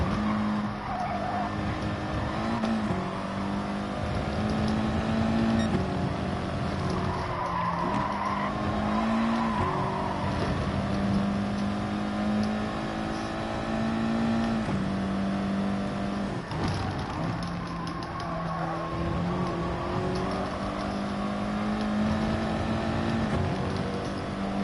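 A race car engine from an Audi drones steadily throughout a racing video game at Brands Hatch, pitch shifting with gear changes, with tire skids and squeals layered in, loud and continuous.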